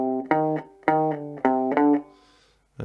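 A few twangy rockabilly electric guitar phrases in quick bursts, short bright notes with pull-offs, separated by brief gaps.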